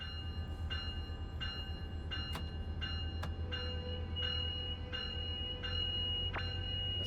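Metrolink F125 diesel locomotive in Train Sim World 4, its engine throbbing as a steady low drone throughout, with a bell ringing in an even repeating rhythm above it and a few sharp clicks.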